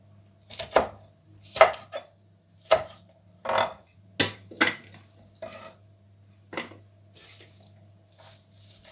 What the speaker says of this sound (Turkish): hepsini sırayla küçük küçük doğrayacağım